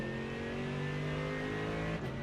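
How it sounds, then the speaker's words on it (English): Mercedes AMG GT3 race car in iRacing at Monza, its engine revving steadily upward through the gears with a loud, continuous rising drone and a brief dip near the end at a shift. "Run the car up through the gears."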